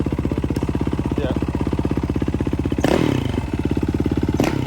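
A Yamaha WR450F dirt bike engine runs close by with a rapid, steady thumping idle. It gives two short revving bursts, and a voice speaks briefly at one point.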